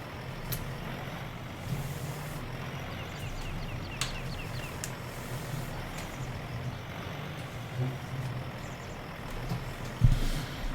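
A truck driving in Farming Simulator 19 on a farm map, a steady low engine drone running throughout with a few brief clicks and a slightly louder thump near the end, no talking.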